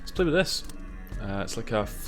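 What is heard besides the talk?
No distinct noise like a dog, phone or traffic.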